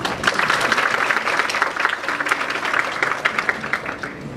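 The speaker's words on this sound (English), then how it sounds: "Ladies and gentlemen, please welcome him with a big round of applause." Audience applause welcoming a speaker at a youth forum opening ceremony, steady close clapping from a room of people, sustained and fairly loud throughout.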